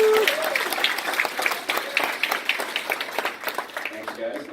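A small group cheers and claps for a colleague at an agent panel meeting, a burst of applause with voices whooping over it, fairly close and continuous before tapering off.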